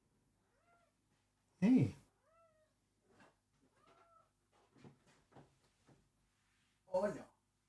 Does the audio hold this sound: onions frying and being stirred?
no